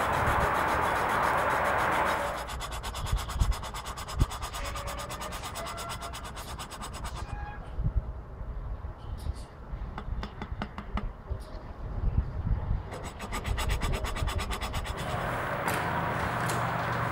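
An exhaust valve being lapped in place in an aircraft engine cylinder gives a steady gritty rubbing and scraping, with repeated short scratchy strokes, close and fairly loud, and no talking.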